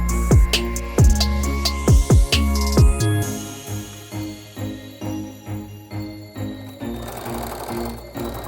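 Sewing machine stitching down glued binding on a quilt-as-you-go placemat, a close, steady mechanical needle clatter with bursts of rapid stitching and brief pauses, no talk.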